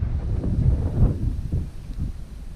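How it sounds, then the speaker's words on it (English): Wind gusting across the microphone while fishing for peacock bass, a rough low rumble in uneven buffets, loud and close with no other sound. "And as usual, we're being attacked by the wind."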